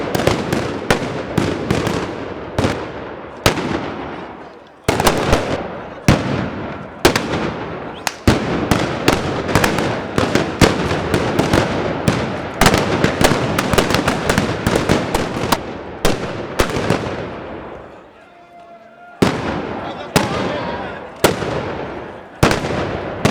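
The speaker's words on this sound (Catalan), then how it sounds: "el capità, el més antic dels galejadors, dona el tret de sortida que marca l'ordre de les escopetades" Rapid blunderbuss volleys at the Festa del Pi, fired one after another by the traditional galejadors: loud, sharp blasts in a dense, irregular sequence with echoing rumble, a brief lull near the end before more shots.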